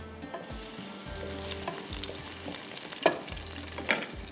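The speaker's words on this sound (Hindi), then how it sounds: "इसको थोड़ा फ्राई करते हैं।" Minced meat (keema) frying in a pan gives a steady close sizzle, broken by a few soft scrapes and two brief clinks of a utensil, with no one talking.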